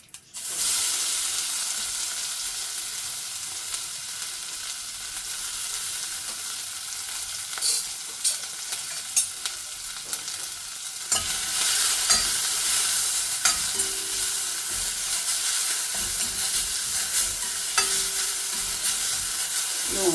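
Crushed garlic frying in oil for tomato rasam gives a continuous, close sizzle with occasional stirring scrapes, growing louder and hissier about halfway through, and no voices.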